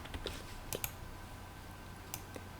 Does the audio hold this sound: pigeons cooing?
no